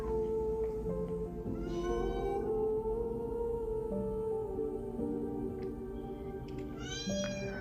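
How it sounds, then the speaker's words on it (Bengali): A kitten meows repeatedly, calling for its mother, with drawn-out crying cries and a rising wail near the end, set against steady background noise with no talk. "বিড়াল ছানা তা দেখে কান্না করতে থাকে এবং তার মাকে ডাকতে থাকে"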